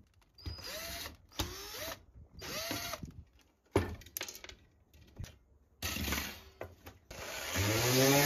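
A power drill whirs in several short bursts while driving screws into plywood for a homemade van ventilation fan, with pauses and handling clatter between runs and a longer continuous spin at the end.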